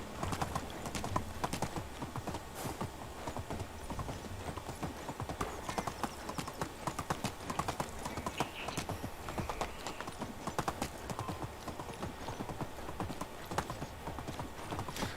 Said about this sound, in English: Yeah, the horse is significantly faster than the donkey.